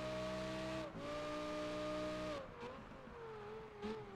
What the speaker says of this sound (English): they have nailed the sound of this Gallardo